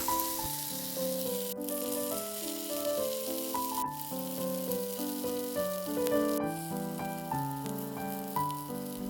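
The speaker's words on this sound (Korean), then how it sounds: "팬에 약간의 기름을 두르고 두부 반죽을 잘 지져줍니다." Oil sizzles steadily in a lightly oiled pan as a mashed tofu and chopped chili batter fries, a continuous crackling fry, while soft background music plays.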